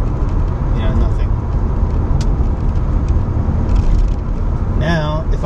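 A Mazda RX8 rotary engine cruises steadily at 2,500 RPM in 4th gear at around 50 mph, a constant low drone under the road and cabin noise while someone talks over it.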